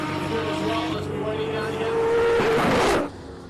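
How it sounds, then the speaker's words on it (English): A hillclimb race car driven by Wade van Zumeren screams up through the gears at a racing event, a loud high-revving engine note rising and sustaining before cutting off sharply as the car passes. "Let me tell you, Wade van Zumeren and the sound of that car is just music."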